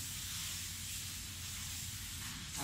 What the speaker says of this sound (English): so I will use brake clean and clean